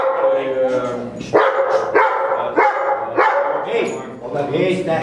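A dog barks in a quick series of sharp, loud yaps, about five barks in a row, close by, with voices in the background.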